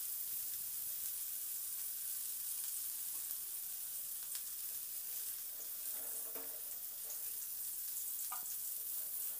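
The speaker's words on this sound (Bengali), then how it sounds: "মিডিয়াম টু হাই ফ্লেমে ফুলকপিটাকে বেশ লালচে রং ধরা পর্যন্ত ভেজে নেব" Cauliflower florets being fried in a pan over medium-high flame for a vegetarian potato-cauliflower curry, giving a steady soft sizzle throughout with occasional faint clinks of stirring.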